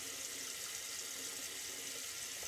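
Tap water runs steadily at a sink to wet a head before shaving, a continuous broadband hiss heard close and alone, with no talking.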